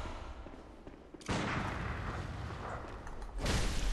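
Gunfire in the video game Bloodborne: a quiet stretch, then a sudden loud burst with heavy rumble, and a second blast near the end, with no voices.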